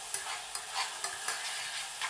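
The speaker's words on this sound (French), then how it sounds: "c'est le moment d'ajouter nos oignons. Ça doit légèrement crépiter" Steady crackling sizzle of onions frying in a pan, with faint periodic stirring scrapes every half second or so; no voices.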